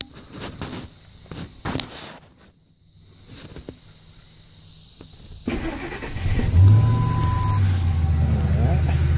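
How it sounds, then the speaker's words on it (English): A 1999 Ford F-150 pickup's engine cranks and fires after a fuel filter replacement, settling into a loud, steady idle close by, preceded by scattered clanks and quiet shop noise. "let's see if we can start the truck"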